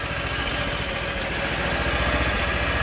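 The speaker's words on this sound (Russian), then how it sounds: "вот ваш мотоблок МБ-6 с двигателем Z250, мощностью 6 лошадиных сил" Motor Sich MB-6 walk-behind tractor with a Z250 6 hp engine running steadily, a loud, continuous close engine drone with an even rhythmic chug throughout and no talk over it.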